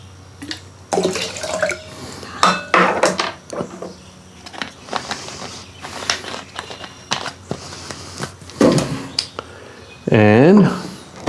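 A measuring cup that held lemon juice is rinsed under running water, with intermittent splashes and clinks in a kitchen, and a person talks over parts of it.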